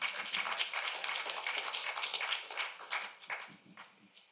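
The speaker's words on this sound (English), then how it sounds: "Let us bless the Lord with a hand clap before I begin" Crowd applause, a dense wash of many hands clapping at steady volume that gradually thins and fades toward the end.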